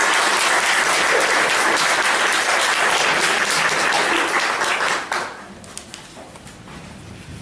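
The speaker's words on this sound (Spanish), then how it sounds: "Un gran aplauso." Loud applause from an audience welcoming a speaker at an annual psychoanalysis conference fills the room with dense, sustained clapping, then drops off abruptly after about five seconds to a few scattered claps and quiet room sound.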